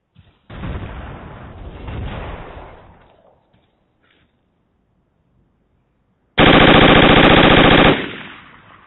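Gunfire in the Project Reality military shooter game: a sustained burst of rapid automatic fire, then a pause of near silence, then a very loud, dense burst of machine-gun fire lasting about two seconds.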